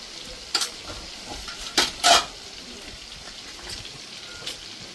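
Spices go into chicken kadai frying in a pan, producing a low background sizzle with three or four distinct clinks and scrapes of a spoon against the pan, close and fairly quiet, with no talking.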